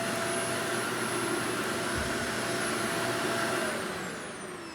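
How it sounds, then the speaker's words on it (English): A Shark vacuum cleaner, just repaired after a wiring fault, runs with a steady whining motor hum at close range, tapering slightly toward the end. "I really like this vacuum cleaner."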